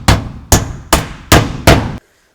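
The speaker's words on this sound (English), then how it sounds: "I'm going to fasten it to the deck" Five evenly spaced hammer blows drive nails to fasten a metal roofing valley pan to the roof deck, each hit sharp and loud with a short ringing tail, then sudden quiet.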